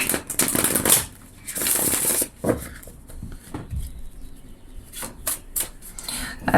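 Tarot cards shuffled by hand at close range, a series of quick riffling and rubbing bursts with soft taps, alone without speech.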